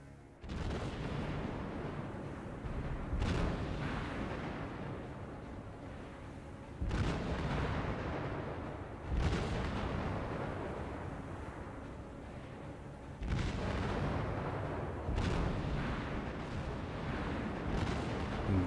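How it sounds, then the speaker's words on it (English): Heavy cruiser Myoko firing its guns in the naval combat game Task Force Admiral: repeated deep booming salvos at irregular intervals, loud and rumbling over continuous low battle noise, with no talking. "The enemy Miyoko is shooting left and right. Shooting left at my ships, shooting right at the approaching torpedo bombers."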